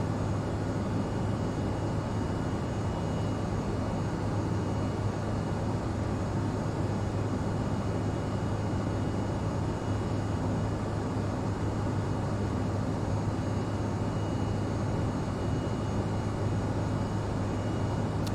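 Steady, unbroken jet-engine drone inside an Embraer E175 airliner climbing after departure in the Prepar3D v5.3 flight simulator, a dense broadband roar holding at one even level throughout.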